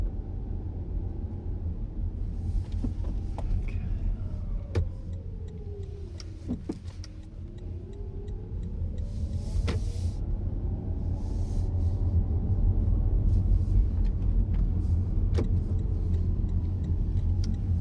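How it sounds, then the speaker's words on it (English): A Toyota Mirai hydrogen fuel cell car drives along with a low, steady road rumble and a faint electric whine that rises and falls, punctuated by occasional sharp ticks and clicks inside the cabin. "So this is my first time driving the car"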